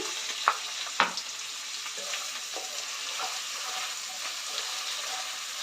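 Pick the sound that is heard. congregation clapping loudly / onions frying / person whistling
onions frying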